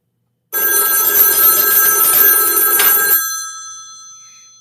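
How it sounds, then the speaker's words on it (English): An old, fire-damaged mechanical telephone bell rings loudly in one continuous metallic burst of about three seconds, then fades out with a lingering ring. "I'm going to send this telephone to a ring cycle as though we're getting a call"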